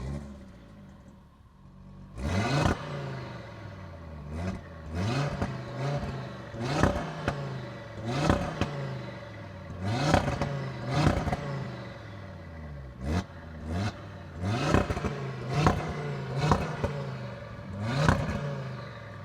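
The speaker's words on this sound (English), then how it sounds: "we will be listening to the sound of the MTM RS3 from the outside as well" An Audi RS3 tuned by MTM starts up, then its exhaust barks through a steady series of sharp revs, each rising quickly and dropping away, recorded close from outside the car with no talking.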